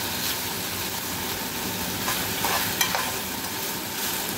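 Pork stir-frying with mushrooms, pak choi and chili in a hot pan, a steady continuous sizzle with occasional scraping stirs, close and fairly loud throughout, no talking.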